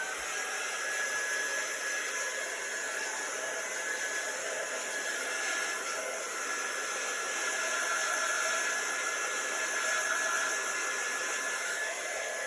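Hair dryer blowing steadily on chalk paste spread over a flannel, a constant close, loud airy whoosh that holds level without a break.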